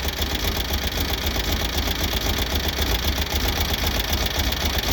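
A 1970 VW Beetle air-cooled engine runs after a cylinder-two misfire repair, a loud, steady, even idle with a fast rattling pulse, close by and without speech.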